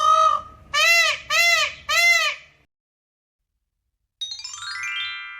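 Three loud, wailing peacock calls in quick succession, each a rising-falling honk, followed by silence and then a separate harmonic tone.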